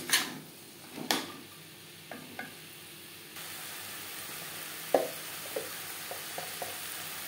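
Potatoes tossed with onion, tomato and spices in a pan: a few scattered spatula knocks and scrapes over a faint, low sizzle, quiet and sparse.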